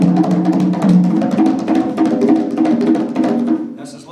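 Hand drum struck with loose, relaxed hand strokes, a fast continuous patter of close, resonant hits with a warm low ring, fading out near the end.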